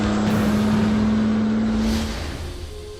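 A truck hauling a house speeds toward a bridge, its engine droning loud and steady with a low hum that fades slightly as it moves off.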